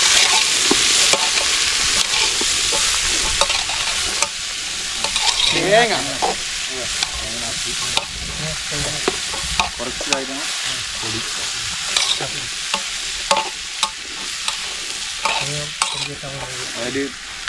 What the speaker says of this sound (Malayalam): വേവിച്ച് കുക്കറിട്ട് വേവിച്ചെടുത്ത കടലാണ്